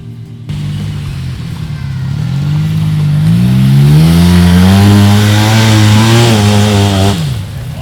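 Cat Wildcat UTV engine on an off-road trail revs hard, climbing steadily in pitch over several seconds with a snarling, buzzy tone, holding high and then cutting off abruptly; loud and close, no talk.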